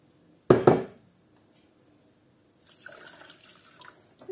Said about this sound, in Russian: наливаем стакан воды